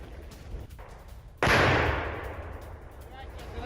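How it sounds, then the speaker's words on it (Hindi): Gunfire detonates an anti-personnel landmine in a snowy area, a single sudden loud blast that rolls off into a fading rumble over faint background noise. "गन फायरिंग से उड़ा दी एंटी पर्सनल माइन"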